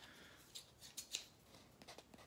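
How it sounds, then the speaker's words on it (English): Several crisp scissor snips cutting through padding material, spaced irregularly, close by and fairly quiet, with no talking. "got some sharp scissors here"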